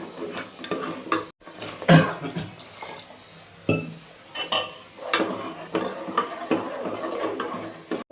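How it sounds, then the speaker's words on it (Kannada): A metal spoon stirs fish fry masala with water in a pan for a pomfret fry, giving repeated scraping and clinking against the pan, loudest around the second and fourth seconds, with faint background noise and no talk. "ನೀರು ಹಾಕ್ಕೊಂಡು ಮಿಕ್ಸ್ ಮಾಡ್ಕೊಳ್ಳೋಣ"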